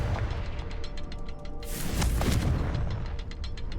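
A Confringo blasting curse detonates in a Harry Potter video game, a loud broad burst swelling near the middle over a dense rumbling game soundscape with crackling debris, no voices.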